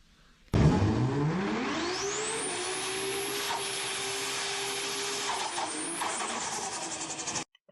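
A car engine run by a Speeduino ECU during idle tuning: it starts abruptly, its pitch rises as the revs climb, then it settles into a steady, close idle hum before shutting off.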